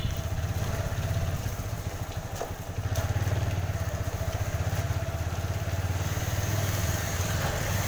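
A motorcycle engine idles steadily close by after an electric self-start, a continuous low, chugging putter with a faint rattle and no voices over it.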